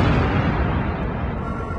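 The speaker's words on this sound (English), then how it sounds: "are you reading these explosions?" Deep, rumbling explosions in a Star Trek fan series roll continuously at high volume, a dense booming barrage with no gaps.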